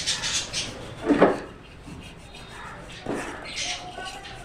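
Refined oil being rubbed around the inside of a cake bowl, giving short soft rubbing and scraping strokes with a light clink of the bowl, heard close up with a little talk nearby.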